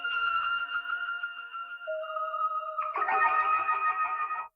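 Layered synth keys with a spacey, effected sound hold a sustained chord that steps down in pitch. A brighter, denser drop sound then enters and fills the rest of the passage with distortion and echo.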